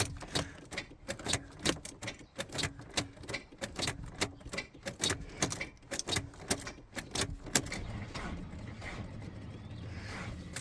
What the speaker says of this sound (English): Lovely and slow turnover. It's not a dead battery, I can assure you.